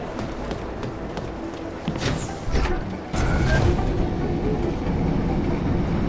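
A train at a station in Deus Ex: Mankind Divided rumbles past with rattling wagons and clickety-clack, a few sharp metallic clanks midway before the loud rolling roar settles in.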